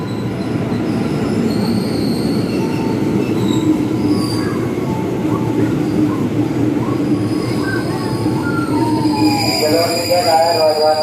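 KRL Commuter Line electric train at Batu Ceper station on the Duri–Tangerang line, a loud, steady rumble of rolling wagons with screeching wheel squeals rising toward the end, continuous and close.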